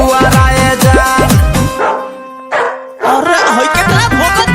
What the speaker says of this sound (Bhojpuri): अरे होई केतना भोकता कुकुर एकदम हंसका रे